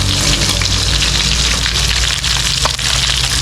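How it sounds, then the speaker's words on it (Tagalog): Galunggong fish sizzles in a pan of hot oil in a home kitchen, a steady dense crackle and spatter with occasional sharper pops, close and continuous. "Prito ako ng isda."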